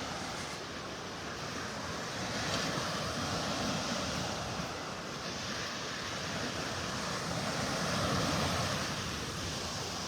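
Surf rolling onto a Naples, Florida beach on a rougher morning with the tide coming in, a steady broad wash of waves with wind noise and swells rising around the middle and near the end.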